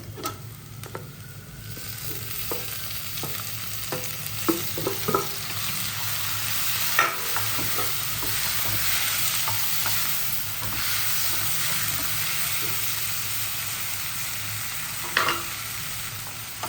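Dried shark fish thokku sautés in a pan, a continuous sizzle broken by stirring taps and scrapes of a spoon, close and moderate in level, no talk.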